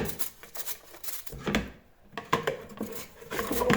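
Green papaya, skin on, grated on a coarse grater: a few close, rough scraping strokes in quick bursts, with a brief pause midway.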